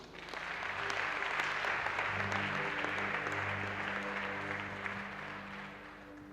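Church congregation applauding during a worship service, a dense sustained wave of clapping that swells and then fades, with voices and tones from music underneath.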